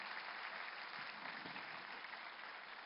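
A crowd claps at a public felicitation event, a brief, steady wash of applause heard from a moderate distance, with no distinct individual claps standing out.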